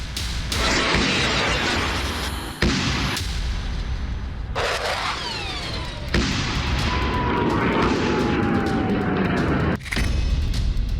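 Bombing and rocket fire in the Israel-Gaza conflict: a series of loud blasts and booms with sharp cracks and whistling streaks between them, dense and continuous, with a voice heard over parts of it.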